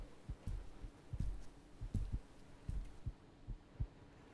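A low, muffled heartbeat thumps in the horror game From The Darkness, faint paired beats repeating in a steady rhythm, about a dozen pulses alone over a quiet hum.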